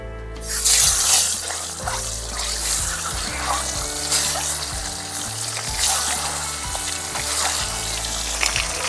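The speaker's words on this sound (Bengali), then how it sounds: "এখন ডিমটা ভেজে নেব।" Egg pieces coated in salt and turmeric fry in hot oil beside cauliflower cooking, giving a loud, continuous crackling sizzle with occasional low bumps and stirring clatter close by, no voices.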